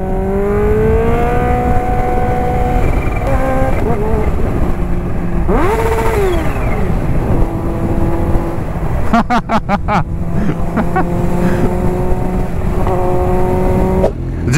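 A Kawasaki Ninja H2 motorcycle revs hard and climbs through the gears, its engine note repeatedly rising to a high whine and dropping at each shift, loud and sustained from close by with a brief crackle midway.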